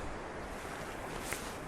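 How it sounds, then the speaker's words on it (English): On the Oregon coast, wind buffets a fur-covered microphone in a soft, steady rush of broadband noise, faint and continuous with no voices. "hopefully you're not getting all drowned out by the wind"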